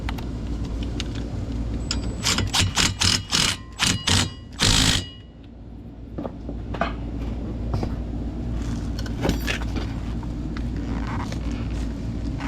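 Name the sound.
impact driver tightening bolts on Mini Cooper brakes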